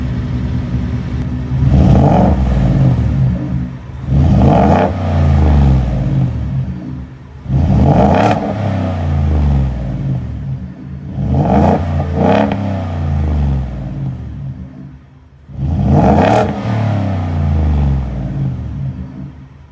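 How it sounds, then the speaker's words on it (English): Ford F-150 with a 5.0 Coyote V8 and a muffler delete revving, five loud, close throttle blips at a steady interval, each rising to a deep roar and falling back to a rumbling idle. "I'm gonna set the camera up and rev it up and let y'all hear it."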